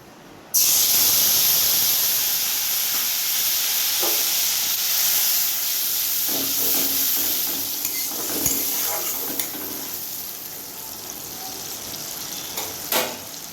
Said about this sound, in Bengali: এবার ওই মাছ ভাজার তেলের মধ্যে এই পেস্টটা আমি দিয়ে দেব